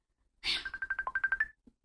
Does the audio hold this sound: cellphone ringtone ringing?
yes